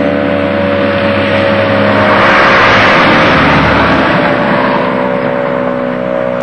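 A tornado siren is heard close by as a loud, steady, droning wail with a constant hum under it for the whole stretch, easing only slightly toward the end.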